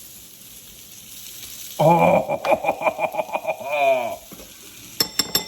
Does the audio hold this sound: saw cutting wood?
no